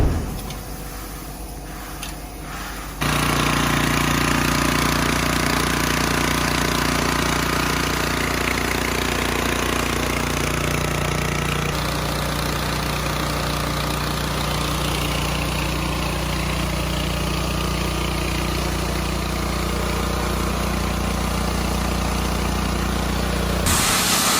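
Engine-driven village rice mill machine running, a steady loud mechanical drone with a constant low hum and hissing grind that starts abruptly after a few seconds and continues unbroken.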